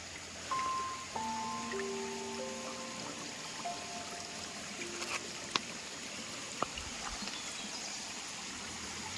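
Water babbles steadily down the hillsides around Pendur village, a continuous soft rushing wash with faint whistling, bird-like tones drifting over it and a couple of sharp clicks.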